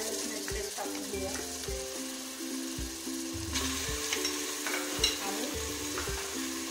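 Ginger garlic paste fries in oil for mutton dalcha, a steady close sizzle with repeated spoon scrapes and knocks against the pan at an uneven rhythm, and no voices over it.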